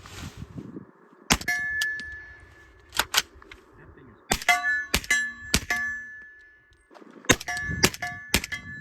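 Suppressed gunshots firing subsonic rounds at a range, each followed by a ringing clang of steel targets being hit; a dozen or so sharp reports in uneven bursts, loud and close, with bright metallic rings lingering after several.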